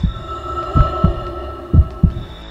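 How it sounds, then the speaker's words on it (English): Isaac's heartbeat in the game Dead Space Remake thumps in low, deep double beats, loud and close over a faint hum, repeating at a quick uneven pace. "you can hear his heartbeat go up and down whenever he thinks he's in danger"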